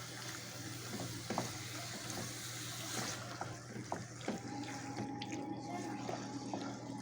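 Chicken liver sizzles and sputters in a pan with softened garlic and coriander, a steady crackling fry with occasional stirring clinks and scraping, fairly quiet and continuous throughout.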